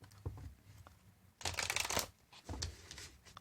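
Cards being shuffled in short bursts, a brief riffle followed by a louder flurry and another quick riffle, close and alone.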